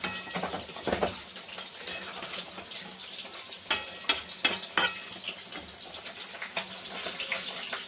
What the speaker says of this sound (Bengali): এরকম মাছের ঝোলটা হয়ে এসছে। একটু চিনি দিয়ে দিলাম।